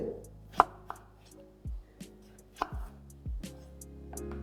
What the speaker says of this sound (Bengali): আলুটাকে আপনাদের এরকম ছোট ছোট করে কেটে নিতে হবে